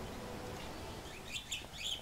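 A pet budgie gives a few faint, high chirps late in the clip over steady background noise and game sounds, with no talk.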